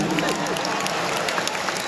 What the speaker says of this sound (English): How about a nice round of applause for all our high school dropouts on the field?